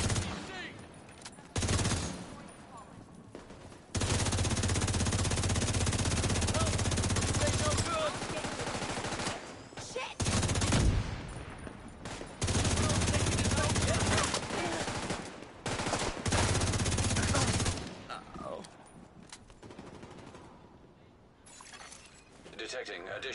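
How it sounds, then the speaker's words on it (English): Shock rounds fired in The Division 2, heard as long loud bursts of rapid automatic gunfire that repeat in blocks with short lulls between them, while someone talks over the shooting. "There's the shock rounds."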